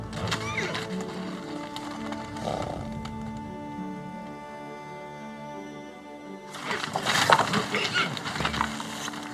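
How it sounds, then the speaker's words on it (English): Wild Yakutian horses in a frozen landscape, with a neigh or whinny carrying over a steady background and busier sounds of movement and snorting near the end. "Wild Yakutian horses are also neighbors in this icy land."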